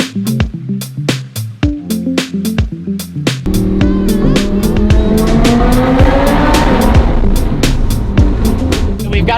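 A car drives past on the road, its engine and tire roar swelling loud and close after a few seconds and holding steady to the end, with music-like tones beforehand.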